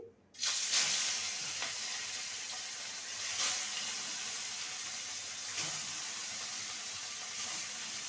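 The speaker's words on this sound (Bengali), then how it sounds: "তেলটা গরম হয়ে গেছে এবার মাছগুলোকে ভেজে নেব" Fish pieces frying in hot mustard oil, an even, fairly quiet sizzle that starts abruptly and continues with a few louder spits and pops.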